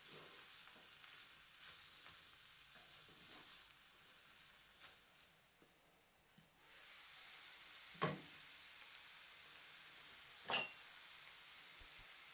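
Chinese-style rice heats in a covered frying pan, giving a faint, steady sizzle and crackle with a couple of sharp clinks of a lid or utensil, with no one speaking.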